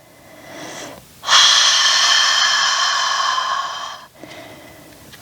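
A single long, deep breath is heard during a full-body yoga stretch. It is close, loud and airy, lasts about three seconds, and sits between quieter breaths.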